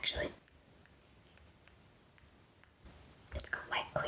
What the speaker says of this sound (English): It's got light clicking.